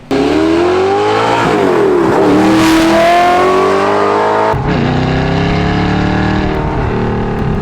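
Audi R8 engine pulling hard under acceleration on a drive, loud and close with rising and falling revs, then a sharp shift partway through before climbing again.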